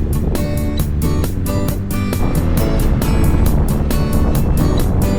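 A motorbike taxi engine drones loudly and continuously under rushing wind, as heard while riding on the bike in Ho Chi Minh City.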